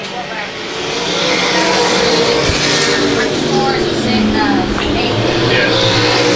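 Dirt track race cars roar past on an open night of racing, a loud swelling engine drone with passing surges, while an announcer talks over the racing noise.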